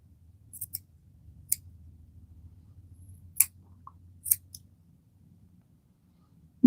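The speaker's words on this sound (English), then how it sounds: "Just one little snip at a time." Scissors snip Giant Angora rabbit fur in a few sharp, isolated clicks spaced a second or so apart over a faint low hum, quiet and close, with no talking.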